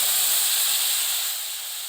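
Soaked spice paste hits hot oil in a pan of tempered cumin while cooking a vegetarian aubergine dish, giving a loud, steady close sizzle that eases slightly toward the end.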